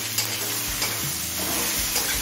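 Chopped tomato fried and stirred in a pan for chicken do pyaza, a steady close sizzle with scraping stir strokes running through the whole stretch, no voices.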